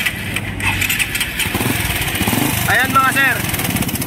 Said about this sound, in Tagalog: Ayan mga boss, ang tunog ng makina ni sir.